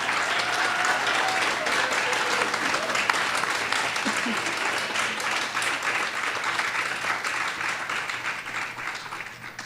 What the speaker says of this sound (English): won't you please show them your appreciation with a resounding applause for their enlightening presentation